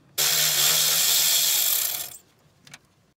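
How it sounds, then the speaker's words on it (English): A power tool zips a 7mm bolt out of the ignition coil box on a Ford E-series 5.4L van, one loud, steady two-second whir that cuts off, followed by a brief faint clink. "I'm gonna be taking the 7mm bolt here from the ignition coil box."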